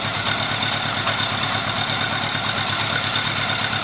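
A 1983 Gold Wing motorcycle engine idles steadily at close range, a continuous even rumble with a fine rhythmic pulse and no talk over it.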